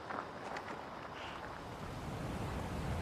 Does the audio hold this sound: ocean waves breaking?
yes